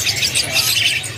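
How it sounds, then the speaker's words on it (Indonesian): Young Javan myna chicks still being hand-fed cry together in a cage at a bird market, a dense stream of shrill, overlapping begging calls, close and loud with no talk. "ini untuk pilihan burung jalak kebo yang masih anak, yang masih diloloh"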